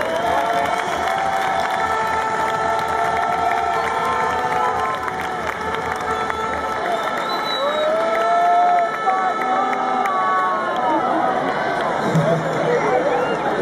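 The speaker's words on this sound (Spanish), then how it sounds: "Un aplauso muy grande para ellos." Large crowd at a Euro 2012 team presentation event cheering and applauding loudly, a continuous roaring mix of shouts, whistles and clapping with voices mingled throughout.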